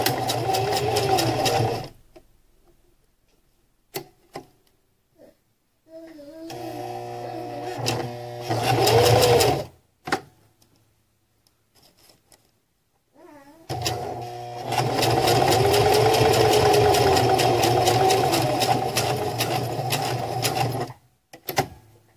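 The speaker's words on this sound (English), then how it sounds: "we were able to use the sewing machine to run a couple stitches" Sewing machine stitching a chest strap onto a small ALICE pack with heavy thread, running in two long bursts separated by quiet pauses and a few clicks, loud and close.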